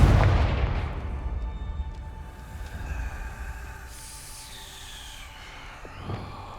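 A Confringo blasting spell goes off in Hogwarts Legacy: one loud, deep boom up front that rolls into a long fading rumble, with a brief crackling burst near the end.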